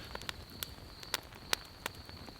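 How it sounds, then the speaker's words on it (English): Light rain falling on a camping bivy tent, heard as sparse, irregular drop taps and soft crackles over a quiet hiss at low level, with several distinct nearby hits. "A little bit of rain is falling again."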